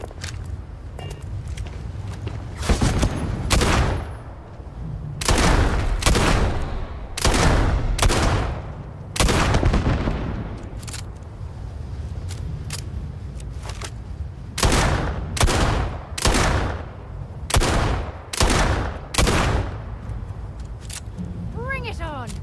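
Loud, repeated bursts of gunfire crack out in rapid clusters, with short gaps between volleys, while voices call out over the shooting.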